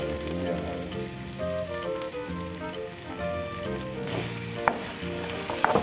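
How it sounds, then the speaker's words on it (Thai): Pork belly with long beans is stir-fried in a pan for a Thai spicy stir-fry, giving a continuous loud sizzle with faint stirring scrapes and a few clinks near the end. "ใส่หมูเข้าไปเลยหมูสามชั้นนี่กับเผ็ดถั่วอย่างเงี้ย"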